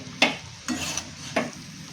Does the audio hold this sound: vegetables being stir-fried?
yes